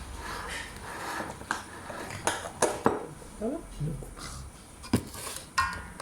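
A mixture is stirred in a dish, with irregular clinks and scrapes of a utensil against the dish. Muffled voices can be heard in the background.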